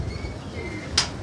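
A pigeon kept by a fancier coos softly and close by, with a low throaty murmur running under a quiet background. A short bright chirp or flutter sounds near the end.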